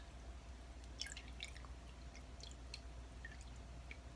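Rose water is dabbed onto a wound: faint, close, wet dabbing sounds, scattered soft drips and squishes spaced irregularly over a quiet background hiss.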